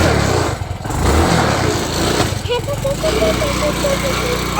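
A motorcycle engine runs on a cold morning, its rider struggling to get it going: a loud, close, steady rumbling drone with a brief dip, then a rising whine as the revs climb.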